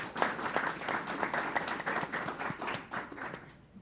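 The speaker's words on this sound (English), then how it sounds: "Please give her a round of applause." An audience at a talk on contemporary African art gives a round of applause, distinct claps rising and thinning over a few seconds before fading out quietly.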